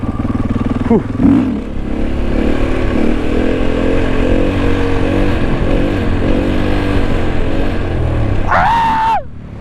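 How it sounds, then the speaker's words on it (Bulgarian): A new motorcycle rides along with a loud, steady engine drone close by, with a short rev near the start and a rising rev at the end. "Това ми е едно от първите такива хубави кръгчета на мотора."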